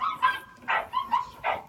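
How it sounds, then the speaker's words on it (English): An American Staffordshire terrier puppy lets out a quick series of high yips and whimpering barks, about five short bursts close by, with no talking. "Got one pup left."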